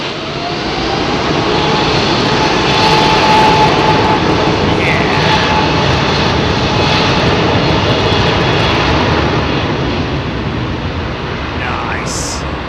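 An airliner with an all-carbon, British-made wing passes at London Heathrow, its loud, continuous jet roar holding steady for the whole stretch, with faint higher whines and a brief chirp near the end.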